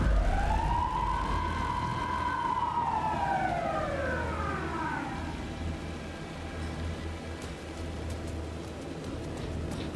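A police car siren from a video game wails in a single long rising and falling sweep over a low rumble, then fades away and leaves only steady background hum.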